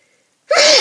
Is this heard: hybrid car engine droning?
no